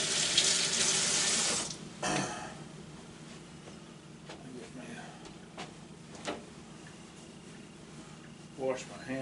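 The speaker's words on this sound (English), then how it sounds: "Wash my hands off." Water runs from a tap into a sink as hands are washed, a loud steady gush for about two seconds with a brief splash after it, followed by quieter clatter and faint room noise.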